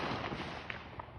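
Faint, distant fireworks pop and crackle in Ryegate on the Fourth of July night, a handful of soft irregular bursts spread across a quiet background.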